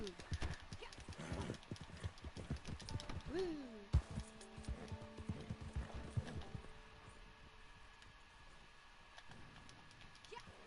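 A horse in the video game Red Dead Online stepping sideways, producing a run of clip-clop hoof steps at close range, with some game sound and faint voice sounds around them.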